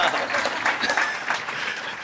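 An audience claps at a SXSW panel discussion, a steady wash of applause filling the room throughout.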